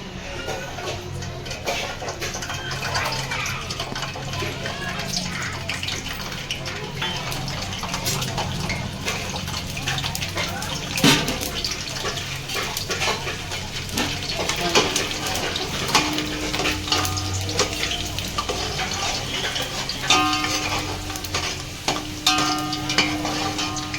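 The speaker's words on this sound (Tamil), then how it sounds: "எண்ணெய் நல்லா காஞ்சிருச்சு இப்போ நம்ம இந்த பூண்டை வந்து இதில் சேர்த்துக்கணும்" Garlic fries in hot oil for a Maqlooba recipe, giving a steady, close sizzle with stirring, scraping and occasional clatter throughout.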